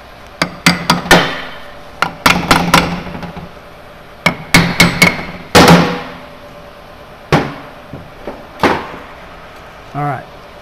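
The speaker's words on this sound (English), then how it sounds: "I was looking for my hammer." Sharp, close hammer blows ring out on a Mazda Miata differential during a Torsen swap, falling in irregular clusters of quick strikes separated by short pauses, with a few softer knocks near the end.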